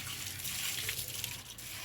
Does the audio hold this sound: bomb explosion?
no